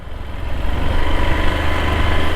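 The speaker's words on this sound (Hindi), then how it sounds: "ये लो भाई आराम से बाइक पूरी लेके जा रहे हैं" A motorbike engine runs steadily on a mountain road on the way to Kedarnath. It is a loud, close, continuous drone with rough low rumble and wind noise and no voices.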